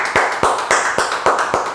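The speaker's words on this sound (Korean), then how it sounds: "주께 감사와 영광의 박수 올려드리겠습니다" A church congregation at an early-morning prayer service claps in steady unison, a quick run of sharp, evenly spaced hand claps close and loud.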